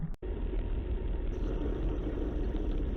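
A car accelerating on a 50 km/h road, recorded from inside the cabin as a steady engine rumble with road noise, one short drop-out near the start, no talk.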